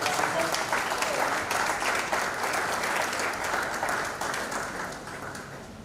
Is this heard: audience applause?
yes